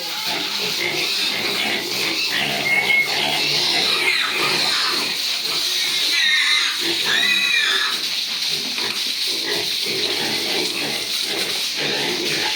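One-month-old piglets from the same litter oink and squeal together in a pen. The grunts and squeals are overlapping and moderately loud, with a continuous hiss underneath.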